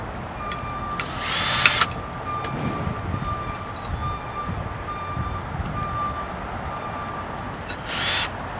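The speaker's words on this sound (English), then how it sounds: "we always do suggest just go ahead and drill these through" A power drill whines in two short bursts while drilling bolt holes for a platform rack mount, one near the start and one at the end, over steady background noise and a faint tonal hum.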